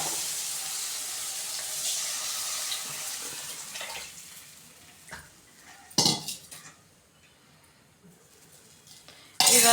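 Tamarind water is poured into a pan of fish curry, giving a hissing, splashing wash that fades over several seconds, followed by a few clinks of a utensil against the pot.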